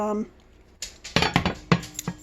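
A cooking pot for chicken corn soup is shifted and set on a stove burner, giving a few sharp metallic clanks and scrapes up close after a brief moment of speech.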